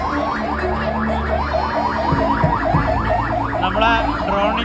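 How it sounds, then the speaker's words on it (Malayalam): An ambulance siren wails past at the Beypore fest 2025 crowd event, a loud rapid repeating yelp close by over traffic rumble, with no talk heard. "ഒരാൾക്ക് അത്യാഹിതം സംഭവിച്ചിട്ട് ആംബുലൻസ് പോവാണ്"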